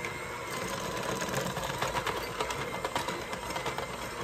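An electric hand mixer creams butter and sugar with a continuous, busy motor whir and a fluttering, slightly uneven beat as the beaters work through the mixture, close up and alone.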